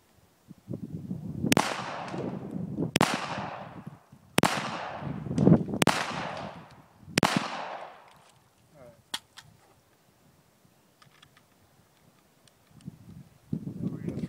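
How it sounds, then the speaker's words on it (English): Five sharp, loud gunshots from an unsuppressed Lone Wolf .45 Auto pistol, spaced about a second or so apart outdoors with echoing decays, followed by quieter handling noises. "we're going to shoot the 45 without a suppressor"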